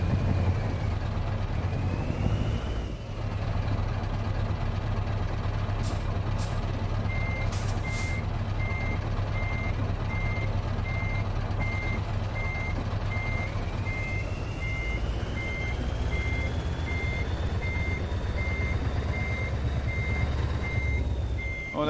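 Reversing beeps from a Scania V8 log truck in a driving game, a steady evenly spaced tone repeating over a continuous low diesel engine rumble, with a brief burst of air-brake hiss partway through.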